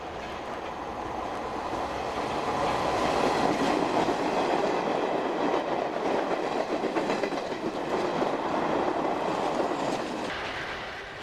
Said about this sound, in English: a Metropolitan A-stock train passes at speed